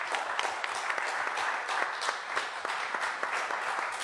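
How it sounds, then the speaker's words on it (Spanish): Steady audience applause fills the space, many hands clapping at a moderate distance in a dense, even patter that holds for several seconds without talk. "yo quiero pedirles un fuerte aplauso"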